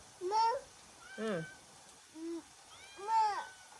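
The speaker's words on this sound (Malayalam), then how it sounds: "മ്യാവു മ്യാവിന് നമുക്ക് കൊടുക്കാം" A cat meows four times in short, separate calls, close by and fairly loud, with brief quiet gaps between them.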